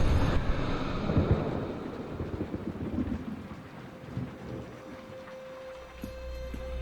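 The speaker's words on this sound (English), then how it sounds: "Why does it have to rain?" A thunderstorm with low rumbling thunder under a steady wash of heavy rain, loud at first and easing slightly, with a faint tonal hum near the end.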